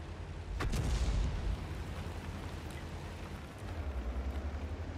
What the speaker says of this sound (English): Artillery takes another shot